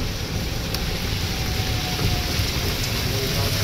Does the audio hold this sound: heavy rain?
yes